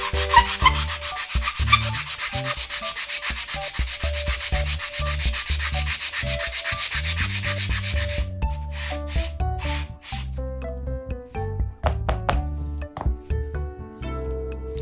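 Sandpaper rubbing laser-cut wooden rocket fins with charred edges, steady rapid scratchy strokes at first, then slower separate scrapes and taps, close-up with no talk.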